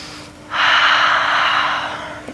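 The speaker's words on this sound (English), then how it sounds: "Breathing nice and deep, sending oxygen to the brain." A single long, deep breath drawn in through the nose during a beginners' yoga flow, a close airy rush that starts abruptly and holds for nearly two seconds before fading, with no talking over it.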